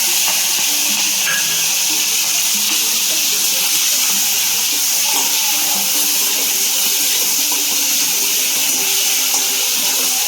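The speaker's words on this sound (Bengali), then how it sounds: "এখন আমি চিংড়ি মাছটা একটু হালকা ফ্রাই করে নিই।" Prawns fry lightly in hot oil in a pan in a home Bengali kitchen, giving a steady, bright sizzling hiss that holds evenly throughout with no talking.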